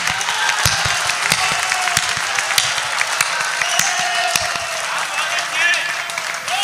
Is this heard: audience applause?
yes